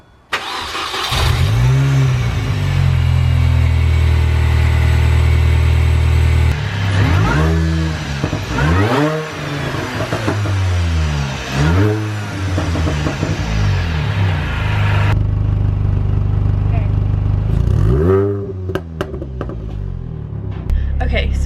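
A Mini R53 with a supercharger fitted with a 17% reduction pulley starts up and idles, then revs repeatedly in sharp rising-and-falling bursts, loud and close, with a whining supercharger tone over the engine.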